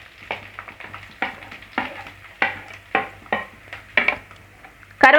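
Chopped onions with dried red chillies sautéing in hot oil for Tamil chicken chukka, with repeated stirring scrapes and a steady sizzle, close and moderately loud, no talk.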